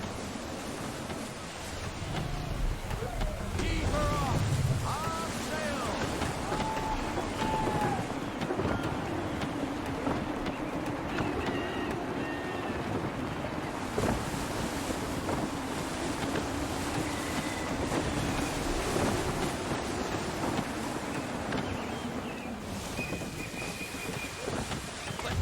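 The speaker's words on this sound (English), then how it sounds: "Full sail. Wind looks to be shifting. Stay alert, Connor. Gusty winds can be difficult to manage." A sailing ship moves through gusty wind and waves in Assassin's Creed III, with a constant rushing roar of wind and surf, creaks and splashes over it, and a few faint voices in the background.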